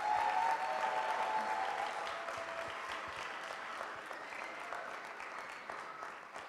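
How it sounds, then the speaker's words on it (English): Sustained clapping from a crowd at a reception, a dense, even roar of hands that starts strong and slowly tapers over several seconds with no voices over it. "you can clap for that"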